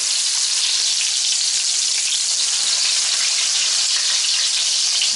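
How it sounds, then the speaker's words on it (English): Breaded steak browning in a frying pan gives a loud, dense, continuous sizzle of hot oil, close up and steady throughout with no pauses and no voices. "Start browning on one side, we'll flip those over."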